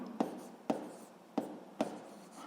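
Chalk or marker strokes on a classroom board during a physics lesson, four short sharp taps spaced about half a second apart, each trailing into a brief scratch.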